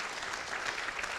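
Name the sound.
congregation applauding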